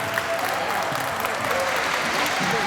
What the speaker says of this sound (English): They deserve all of our respect and a great round of applause.